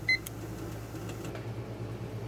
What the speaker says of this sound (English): And we're going to set our timer now.